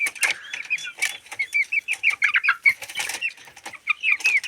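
Chickens and a rooster in a backyard coop make rapid close clucks and squawks in quick overlapping bursts, with some wing flapping and no talk.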